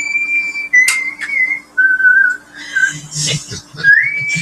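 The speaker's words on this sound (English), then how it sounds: "You whistle while you cook." A person whistles a slow, wavering tune in short phrases, close and clear, with a few soft clicks and a brief voice near the end.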